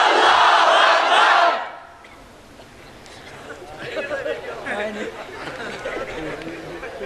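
A large crowd at a waz mahfil shouting takbir in unison, a loud massed roar lasting under two seconds, then fading into a murmur of scattered chatter and voices.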